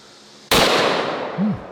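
A single .416 Rigby rifle shot fired into railroad ties: one sudden, very loud blast that rings out and decays slowly over more than a second.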